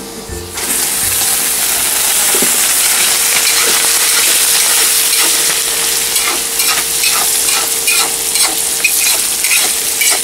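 Onion rings sizzle loudly in hot fat in a kazan, a steady close hiss broken by occasional stirring scrapes, no talking.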